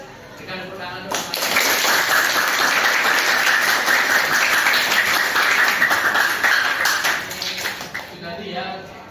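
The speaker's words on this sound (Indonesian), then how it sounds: "Berikan tepuk tangan dulu." A classroom gives applause after a group presentation, a burst of dense clapping that starts suddenly, holds steady for several seconds, then tapers off.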